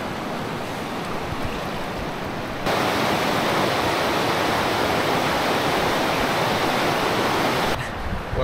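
Fast-flowing river water in a New Zealand backcountry stream rushes with a constant, close hiss. It swells noticeably louder through the middle stretch before easing back, with no voices.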